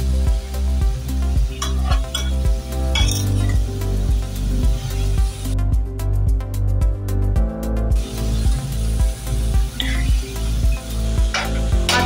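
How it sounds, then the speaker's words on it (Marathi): Fenugreek (methi) bhaji is stir-fried in a pan, with a steady loud sizzle and repeated scraping strokes of the spoon against the pan throughout, close by and with no talk. "भाजी। वर खाली परतवून घेऊया।"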